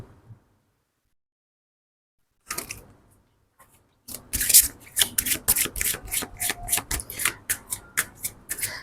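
A deck of tarot cards is shuffled close by, with brief handling sounds after a silent start and then a steady run of crisp, rhythmic riffling flicks.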